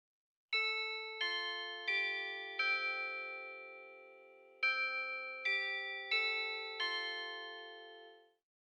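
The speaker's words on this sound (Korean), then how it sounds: "종이 울렸다" A school bell chimes in a descending and rising ding-dong pattern, clear, ringing tones in two phrases separated by a short pause, each note sustaining and decaying, with no voices.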